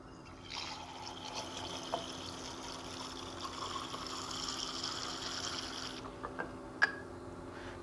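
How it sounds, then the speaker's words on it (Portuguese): Tap water runs into a 250 ml glass beaker at a lab bench: a steady, fairly quiet hiss of flowing water for several seconds, then cut off, followed by a few small clinks. "Preencho o meu becker com água de torneira"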